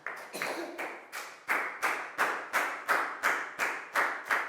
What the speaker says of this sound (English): High five and a big round of applause for Chu, please, guys.